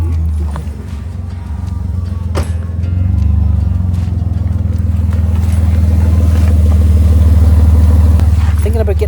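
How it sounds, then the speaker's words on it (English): A car engine revs during a hot road trip, its low steady drone climbing and holding loud and close over about nine seconds, with faint voices in the background. "let's rev it up"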